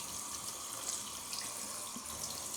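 Cold water runs steadily from a tap into a sink, a constant soft hiss and splash held close and fairly quiet, with no voices.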